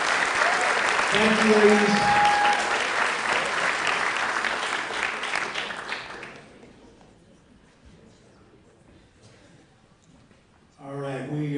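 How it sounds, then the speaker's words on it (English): A crowd at an athletics awards ceremony claps loudly for about six seconds while a voice briefly speaks over it, then the clapping dies away into a quiet pause before speech resumes. "Let's give these athletes a big round of applause."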